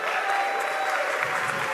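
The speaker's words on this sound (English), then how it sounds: "So please give them a round of applause." Audience applause at a town hall meeting, a steady dense clapping from a crowd that fills the whole short stretch at even loudness.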